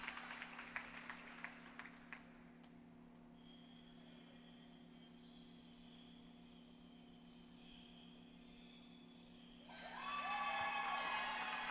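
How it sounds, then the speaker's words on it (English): Audience at a college volleyball match applauds a senior, scattered claps at first fading to a quiet hum with a steady tone, then a louder burst of cheering near the end. "And there's a round of applause for Julia Bell."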